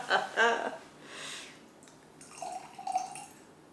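A short splash of tonic is poured into a glass of aromatic Mediterranean gin, giving a brief gurgling trickle after some voices at the start.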